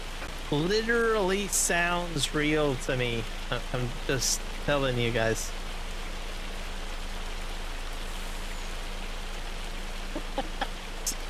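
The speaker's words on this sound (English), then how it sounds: "Man, I just love the rain effect. It literally sounds real to me." Simulated rainfall from Farming Simulator 25 in a forest logging setting, a steady hiss of rain that continues under someone talking and then carries on alone with a few faint clicks.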